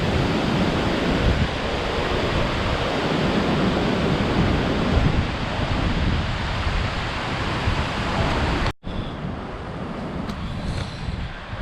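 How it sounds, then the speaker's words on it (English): Powerful hurricane wind during Hurricane Laura roars as a loud, steady broadband rush with heavy buffeting on the microphone, briefly cutting out near the end before resuming. "Y'all listen to that wind, baby."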